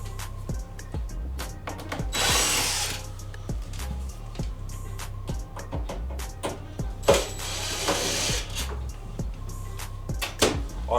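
Phillips screws are backed out of the side panels of a Bosch speed oven, probably with a ratcheting driver, giving a run of small, regular mechanical clicks with occasional scraping and handling noises.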